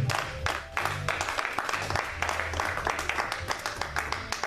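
A church congregation applauds at a French-language sermon, sustained loud clapping from a crowd in a hall with a low musical hum underneath, continuing steadily throughout.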